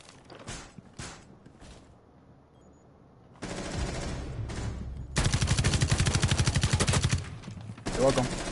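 Rapid gunfire from a Rainbow Six Siege ranked match: a few scattered early shots, then loud sustained automatic bursts with a short gap, close and dense, with faint game noise in between.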